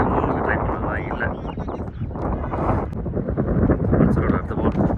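Strong wind buffets the microphone at an outdoor cricket ground, producing a loud, continuous rumbling roar that swells and dips, with a voice partly audible beneath it.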